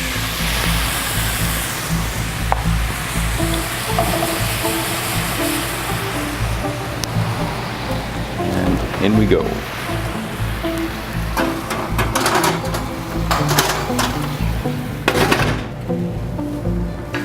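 Salmon with a maple tamari glaze and onions sizzles in a non-stick pan, a steady broad hiss with occasional crackles, as a voice speaks briefly near the start.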